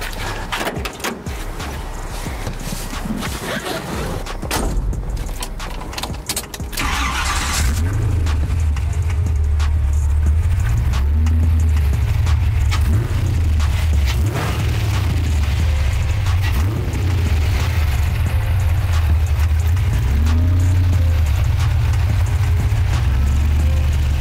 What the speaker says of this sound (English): Why don't I have you get in the driver's seat and fire the sucker up for us?